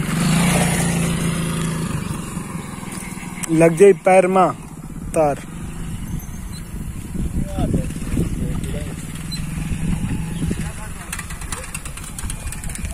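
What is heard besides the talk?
vehicle engine approaching and idling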